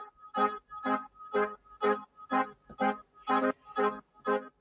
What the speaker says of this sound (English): Then I've got a couple of horn or arpeggiated sounds going.